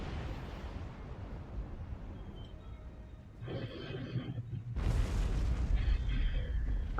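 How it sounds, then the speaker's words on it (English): A sci-fi starship blows apart in a sound effect, starting as a steady, dense rumble that swells and then bursts into a louder, roaring blast that fills the rest of the clip. "That was quite an explosion"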